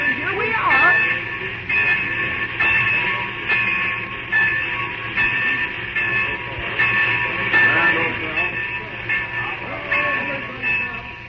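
A train rolls into a station with a steady rumble and clatter of wheels and high metallic squeals, heard under voices talking in an old radio-drama style.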